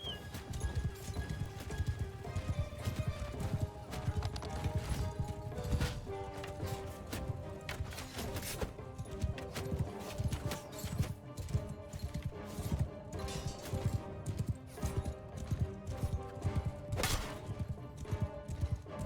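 Horse hooves clip-clopping in the samurai video game Shokuho, a dense, continuous rhythm of hoofbeats with occasional neighs under a busy mix of clattering game sounds.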